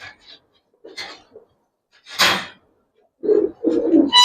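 Close, low coos of a Girribaz pigeon with a split tail in short bursts, with a rustle of feathers or handling noise between them.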